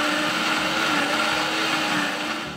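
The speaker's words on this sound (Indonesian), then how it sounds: "ini cabai keriting dan juga cabai rawit kita akan blender" A blender runs at high speed with a steady, harsh whir, grinding curly red chilies and bird's eye chilies continuously before easing slightly at the end.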